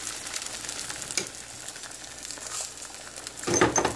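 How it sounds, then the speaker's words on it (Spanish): Three eggs with salt are beaten by hand for a quick machacado breakfast, giving a steady rapid scraping and tapping against the bowl that runs for about four seconds and grows louder at the end. "Y luego voy a batir."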